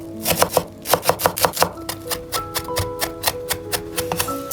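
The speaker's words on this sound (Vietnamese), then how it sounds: "Mình sẽ cắt riêng phần đầu hành, đập dập một chút, sau đó thì băm nhỏ." A kitchen knife mincing crushed spring onion bulbs on a cutting board for Vietnamese lemongrass-chili braised meatballs: a quick run of crisp, evenly spaced chops close up, then lighter taps, with soft music underneath.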